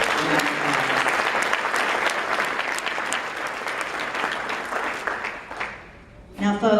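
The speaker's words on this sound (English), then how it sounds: "let's not only give Robert a round of applause" Sustained applause from a banquet audience at an awards gala for a youth organization, steady clapping for about six seconds before it thins out, with some voices and cheering mixed in.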